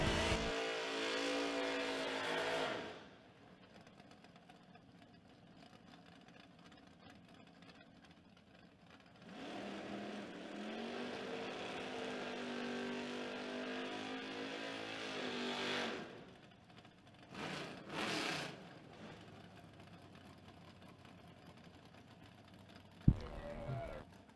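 A Nova drag car numbered 602 and an Opel numbered 565 race at a drag strip event, with loud engine roars at the start and a long rising, revving pull midway, then shorter bursts fading out.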